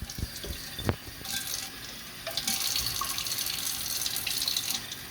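Water running from a kitchen tap while palak paneer is being cooked, a steady splashing stream with clinks of utensils, close and continuous with no talking.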